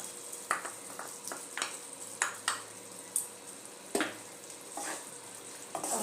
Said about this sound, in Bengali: ভালো করে পোস্তটা মিশিয়ে নেব